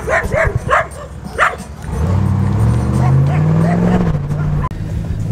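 Dogs bark in a few quick, sharp yips at the start, close by, then a car engine drones steadily, its pitch rising as it drives off.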